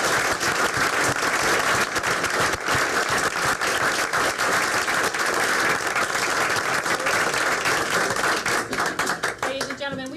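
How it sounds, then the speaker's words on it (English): A room full of people at a school board meeting claps steadily for several seconds, dense and fairly close, before the applause thins out at the end. "another round of applause, please"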